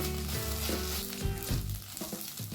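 Onions with ginger garlic paste frying in a pan, a continuous quiet sizzle with occasional stirring scrapes, close but low in level.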